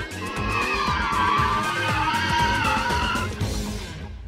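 Porsche 911 tyres skid and squeal continuously through a tandem drift, a loud sustained wavering screech over engine roar for several seconds before easing slightly near the end.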